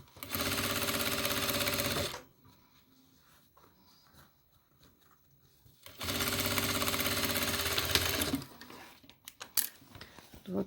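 A sewing machine stitches fabric for a toiletry bag in two loud, steady whirring runs of about two seconds each, separated by quieter handling noises and small clicks.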